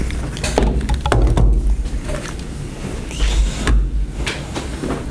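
A house door being opened to answer a caller, with a couple of knocks and thuds from the latch and door movement over low background noise, fairly close.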